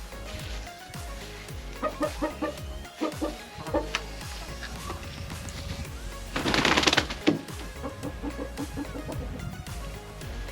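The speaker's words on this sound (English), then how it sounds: "these are very inquisitive chickens" Egg-laying hens cluck in a series of short, close calls while exploring a new chicken house, with a brief burst of scratchy rustling partway through.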